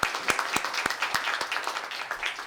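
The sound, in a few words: applause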